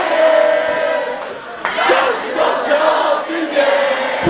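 Football fans at a Polish championship celebration chant loudly together for their club, a dense roaring crowd swelling with shouts and cheers, continuous and close.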